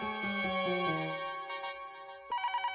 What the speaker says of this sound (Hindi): सीडी भाई का फोन है।